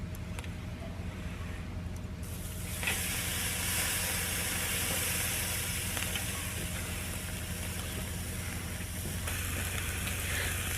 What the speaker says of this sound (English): I'm going to go ahead and sear this thing off.